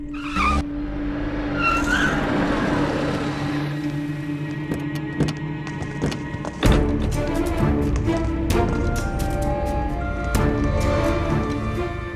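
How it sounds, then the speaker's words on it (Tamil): A car rolls into a house compound, its engine rumbling near with a brief tyre squeal and scattered clunks and knocks, no talk over it. "வண்டியை உள்ள விடுறா."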